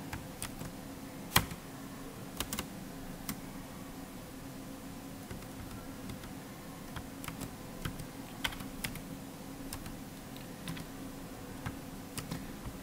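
Keys clack in an uneven, intermittent patter on a computer keyboard as HTML code is typed, each stroke faint and close against a low steady hiss, with no voices.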